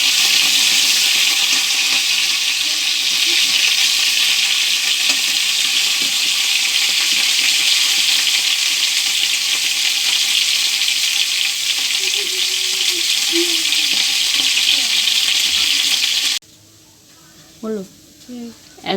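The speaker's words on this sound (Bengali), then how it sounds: "এখন আমি ফুলকপিটা ভেজে নিচ্ছি। ফুলকপিটা একটু লাল লাল করে ভাজবো।" Cauliflower frying in a pan until lightly browned for a mixed vegetable curry, giving a loud continuous sizzle for most of the stretch, broken by a few distant utensil sounds; the frying cuts off abruptly near the end, leaving quiet room noise.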